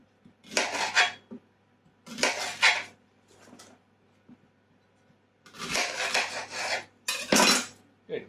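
Soft cooked vegetables are cut in half with a knife on a metal tray, giving several bursts of scraping, clinking blade-on-tray strokes separated by pauses, close and fairly loud with no talk.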